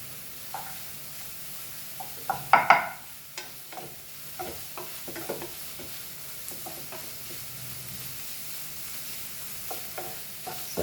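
Finely chopped onions and tomato fry softly in a pan for Goan egg burji, with scattered spoon clinks and scrapes from stirring, one louder clatter early on, over a faint steady sizzle.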